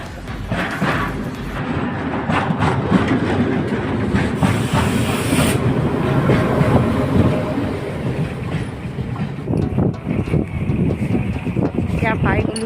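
A train passes a railway line crossing near Kutitkia market in Assam, a loud rolling rumble and clatter of wagons that fills the scene, mixed with gusty wind buffeting the microphone and nearby voices.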